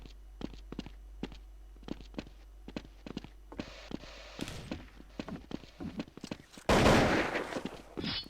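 Rapid bursts of rifle gunfire in a shooter video game, sharp repeated cracks in quick rhythmic volleys with footstep-like taps between them, ending in a loud sustained noisy blast near the close.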